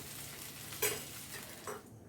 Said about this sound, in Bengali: এবার ভালো করে নেড়ে মিশিয়ে দিতে হবে।